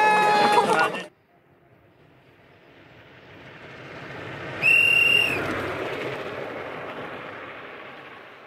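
A loud steam whistle gives a short blast at a soapbox race, then after a lull of rumbling a second sustained shrill whistle sounds, slowly fading into engine noise.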